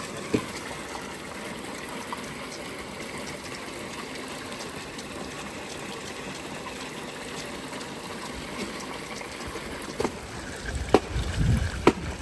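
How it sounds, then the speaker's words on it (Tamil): Water gushes steadily as a household water tank fills, a constant hissing flow heard throughout at moderate level, with a few soft knocks and a brief low rumble near the end. "தண்ணி தொட்டி நிரம்பிருச்சு"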